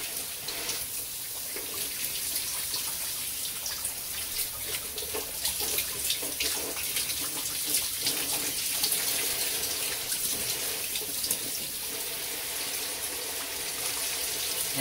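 Shower water runs steadily while someone rinses off, a continuous hissing spray with faint splashes and drips in a small bathroom, moderately loud and close, with no talk.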